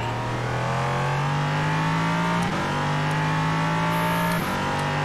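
LMP3 sports prototype race cars in the iRacing sim at Zandvoort, a loud engine note rising steadily as the car accelerates through the gears, with other cars passing close by.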